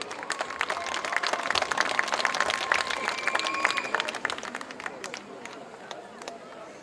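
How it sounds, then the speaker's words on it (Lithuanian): An audience at a rock concert claps for a performer named Aistė: dense, sustained applause from a crowd that swells and then gradually thins out toward the end. "Dar kartelį aplodismentai Aistei."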